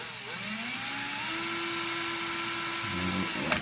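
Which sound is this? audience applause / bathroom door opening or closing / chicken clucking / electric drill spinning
electric drill spinning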